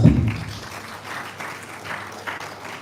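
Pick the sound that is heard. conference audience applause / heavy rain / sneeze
conference audience applause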